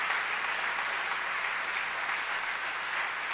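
Church congregation applauding during a sermon, a dense, even wash of clapping that holds steady and fairly close throughout, with no talk.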